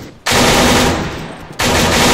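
Automatic gunfire in the military video game ArmA 3, two loud sustained bursts of rapid shots close by with a brief pause between them.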